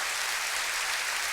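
A church congregation applauds during a sermon, a brief, even patter of many hands clapping, moderately loud, with no voices standing out.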